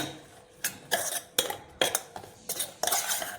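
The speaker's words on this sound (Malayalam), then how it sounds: "നന്നായിട്ട് മിക്സ് ചെയ്ത് കൊടുക്കുക" Spoon mixing mango pickle in a metal pot, a series of about seven rhythmic scraping clinks, close and moderately loud, with no talk.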